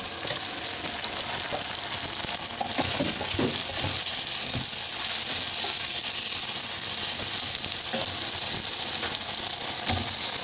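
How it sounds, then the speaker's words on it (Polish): Bananas fry in butter in a pan, giving a loud, continuous sizzle and crackle with occasional stirring clatter and no talking. "Po dwóch minutach dorzucamy banany."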